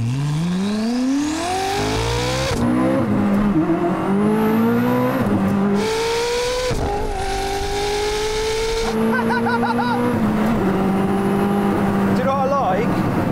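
A hypercar engine revs loudly and continuously while driving, with rising pitch sweeps broken by several gear changes, the engine note dropping and climbing again after each shift; voices talk over the engine at times.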